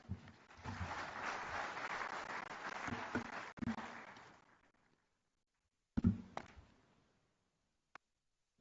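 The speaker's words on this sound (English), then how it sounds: "One more round of applause for Colin Howell." Audience at an identity-for-development conference in Africa applauding a presenter, a steady round of clapping that fades, then a few louder scattered claps and isolated taps after a pause.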